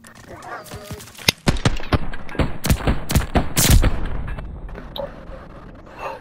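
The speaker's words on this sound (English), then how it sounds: "Hell of a guard dog on the way to ya." A guard dog summoned as a killstreak in a Call of Duty–style multiplayer match on the Control mode barks and yelps amid loud bursts of gunfire and announcer talk, the barks sharp and near.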